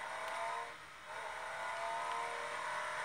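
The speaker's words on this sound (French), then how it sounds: "les bruits de voiture, c'est pourri dans le jeu" Car engine in a video game, a steady droning whine that dips briefly then picks back up, constant and fairly loud with no speech over it.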